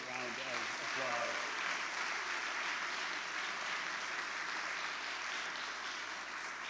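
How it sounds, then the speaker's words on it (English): An awards-ceremony crowd gives Suzanne Shank another round of applause, steady dense clapping throughout, with a voice talking briefly over the start. "let's give Suzanne Shank another really great round of applause"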